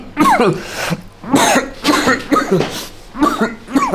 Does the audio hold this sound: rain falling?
no